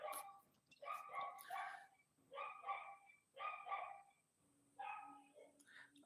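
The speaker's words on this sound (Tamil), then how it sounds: "அட இந்த இந்த நாய் கத்திக்கிட்டே இருக்குது" A dog barks in repeated bursts, about five short volleys of sharp yelping barks separated by brief pauses, fairly close and clear over a quiet background, with a faint voice near the end.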